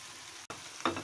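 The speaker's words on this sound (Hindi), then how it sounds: "प्याजों के अंदर चिकन और नमक डालने के बाद इसको हम अच्छे तरीके से मजीद भूनेंगे" Chicken, salt and onions fry in a pan, a soft steady sizzle with a brief stirring scrape near the end.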